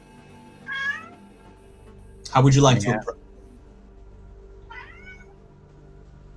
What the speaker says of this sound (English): Someone's cat.